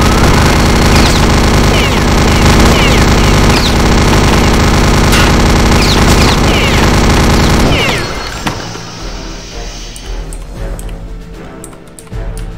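A venom gun in Return to Castle Wolfenstein (RealRTCW) fires in a long, loud, continuous rattling burst for several seconds, then stops, leaving quieter game ambience with a few faint clicks.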